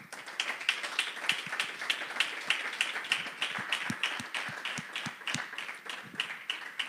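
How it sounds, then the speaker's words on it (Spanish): A church congregation claps together in a steady, rhythmic beat, many hands close and continuous throughout, with no voices over the applause. "Den un aplauso al Señor"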